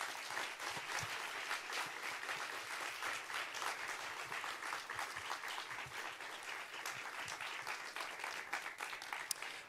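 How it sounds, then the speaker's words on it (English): Sustained audience applause fills a university matriculation ceremony hall, a steady dense wash of many hands clapping from start to finish with no voices over it. "A big round of applause, please."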